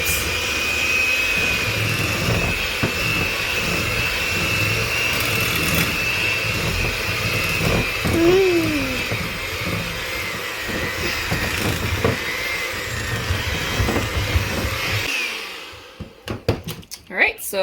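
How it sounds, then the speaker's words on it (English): Electric hand mixer beaters whir steadily through a cream cheese mixture in a kitchen. The motor drones for about fifteen seconds, then shuts off, leaving a few clattering knocks. "So now we're just going to take our beaters and mix it all together."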